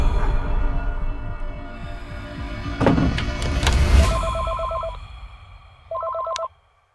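A telephone rings in a tense thriller scene, its electronic ring sounding in two short bursts near the end over a dark, swelling music bed.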